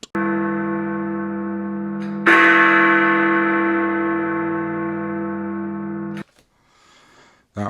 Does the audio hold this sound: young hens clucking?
no